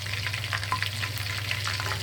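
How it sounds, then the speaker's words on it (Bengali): A whole broiler chicken fries in oil, giving a dense, close, continuous sizzle with irregular crackles and pops and no talking. "এখন খালি অল্প একটু যে জায়গায় সাদা আছে ওটা ভেজে নিচ্ছি।"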